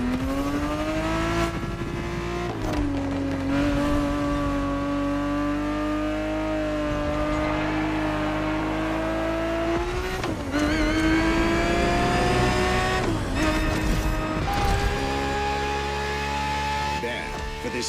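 A Ferrari 365 GTB4 engine races in The Crew Motorfest video game, roaring steadily with repeated rising revs and brief dips at gear shifts. The sound is loud and continuous throughout.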